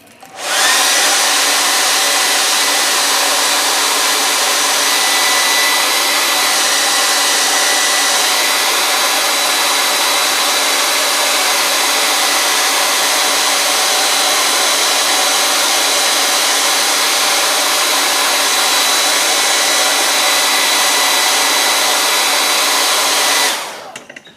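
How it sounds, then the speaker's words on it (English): A hair dryer blows loudly and steadily for the whole stretch, a constant broadband whoosh that starts and stops abruptly. "we're going to take our hair dryer and dry him"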